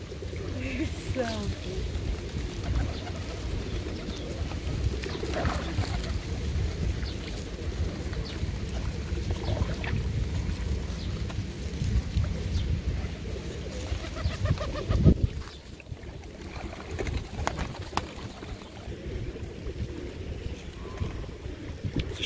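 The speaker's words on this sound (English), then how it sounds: "every pigeon within a 2 mile radius knows that you're dishing out bread crusts" Pigeons coo amid a steady outdoor wash of wind and water, with a few fluttery bird sounds and faint voices in the background.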